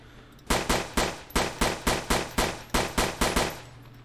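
Unsuppressed Lola pistol in the Survive the Nights game fires twelve sharp, loud shots in a steady rhythm, with a brief gap partway through the string, and no talking.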